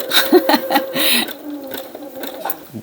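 Sewing machine sews a zigzag stitch on fabric pockets for junk journals, giving a few short, quick stitching bursts at close range along with soft light laughter.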